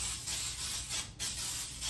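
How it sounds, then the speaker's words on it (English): Baker's Joy baking spray sprayed into a glass baking pan, two short bursts of close, bright hissing split by a brief pause. "We're gonna spray this in to make sure nothing sticks."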